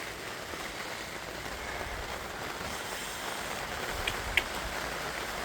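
Rain falling outdoors near a cabin, a steady soft hiss of drops with a couple of brief taps on a surface, moderately quiet and continuous with no talking.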